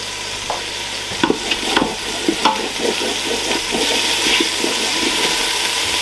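Lamb pieces searing in olive oil inside a Ninja Foodi Max, a steady close sizzle with a few sharp clatters and scrapes early on, no voices.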